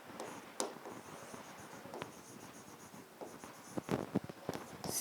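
Answer being written by hand with a pen on paper, heard as soft, close scratching and tapping strokes in an uneven rhythm, quiet and alone without talk.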